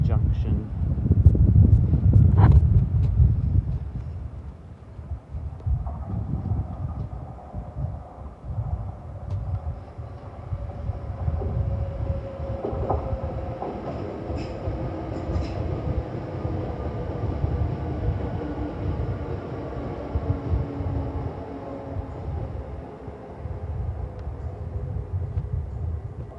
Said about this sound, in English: London Overground service to Watford Junction.